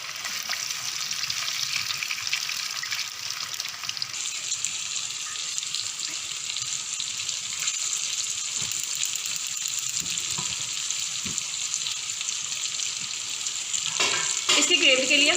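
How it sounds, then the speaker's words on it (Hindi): Chicken fries in hot oil with a steady, dense sizzle and crackle that runs unbroken throughout, with a few faint clinks of utensils near the end. "अब हम चिकन फ्राई कर लेंगे।"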